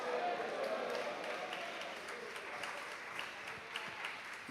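Church congregation clapping in praise during a worship service, a steady dense wash of many hands applauding together throughout, with a voice faintly heard over it.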